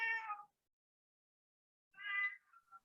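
A domestic cat meows twice, close and clear, with a short silent gap between calls, the second meow trailing off into a brief higher note.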